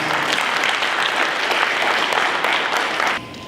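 An audience claps warmly for a speaker coming on stage, dense steady hand clapping that fades off abruptly near the end.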